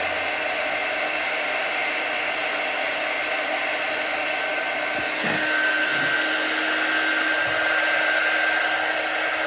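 A hair dryer blows steadily and loudly at close range over wet chalk artwork, a continuous whooshing whine that shifts slightly in pitch partway through, with no talk.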